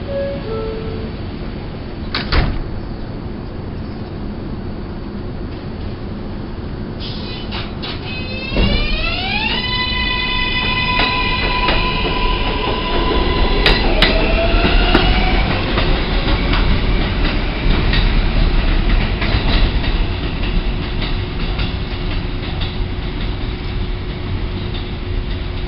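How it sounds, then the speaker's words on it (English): A New York City subway 7 local train pulls out and runs: low rumble and a brief squeal, then the electric motors whine upward in rising tones as the car gathers speed, followed by loud, sustained rolling rumble and clatter. "Flushing Main Street bound 7 local train."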